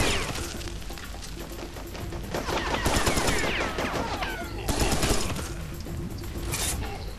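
Rapid, continuous rifle fire in the video game Serious Sam 3: BFE, with dense bursts of shots and explosive cracks, loud and sustained throughout.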